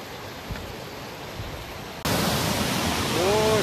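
Cachoeira da Capivara waterfall in Capitólio rushes as a broad, steady roar of falling water, quieter at first and then suddenly much louder and nearer, with a faint whistle-like tone near the end.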